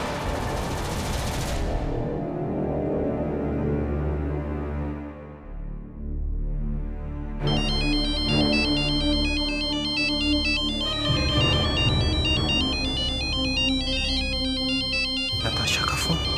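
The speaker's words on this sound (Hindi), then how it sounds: "नताशा का फोन" Telephone ringtone ringing in a Hindi TV serial scene, a bright electronic melody of repeating high tones that cuts in after a dramatic musical swell and keeps sounding loudly with a steady rhythm.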